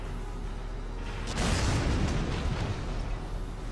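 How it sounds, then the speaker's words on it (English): A mortar strike in the video game Valkyria Chronicles: a loud, broad explosive boom that swells and rumbles for a couple of seconds over a steady background din. "what I'm going to do now is probably mortar strike right here"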